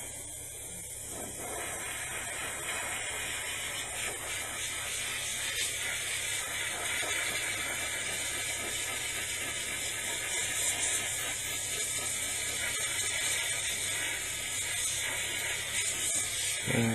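An airbrush that isn't working properly gives off a steady, fairly loud broadband hiss of spraying air that runs unbroken for the whole stretch, with no talking.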